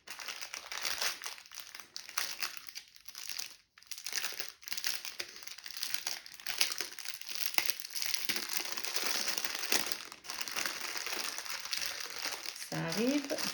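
Zip bags of diamond painting beads from an AliExpress mandala mosaic kit are opened and handled, giving continuous close plastic crinkling and rustling with a few short pauses.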